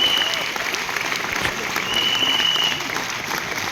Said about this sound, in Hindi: एक बार तालियां सर के लिए, 2 बार तालियां।